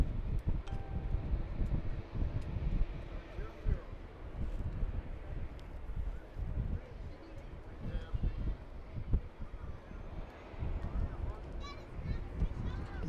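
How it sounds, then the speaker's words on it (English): Gusty wind buffeting the microphone atop a press box at a junior high football game, a continuous low rumble with a voice talking over it. "It's starting to get a little windy up here, top of the press box."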